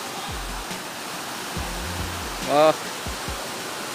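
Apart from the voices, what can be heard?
waterfall water flowing, Dao Falls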